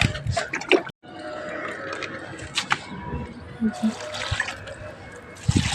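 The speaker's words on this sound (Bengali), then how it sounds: "ভালো করে জল দিই তাইলে ঠিক মতো হবে গাছগুলো" Water poured onto garden plants, including taro, at a home garden on a sunny day, a steady splashing trickle running under a voice that keeps talking throughout.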